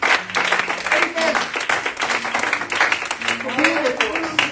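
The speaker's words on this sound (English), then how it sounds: "Let's just give God a hand clap of praise for being there for us." Church congregation clapping in praise, a steady dense wash of hand claps from a crowd indoors, with voices mixed in underneath.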